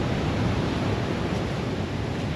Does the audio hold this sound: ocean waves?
yes